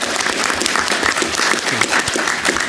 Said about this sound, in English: So, round of applause for Bill.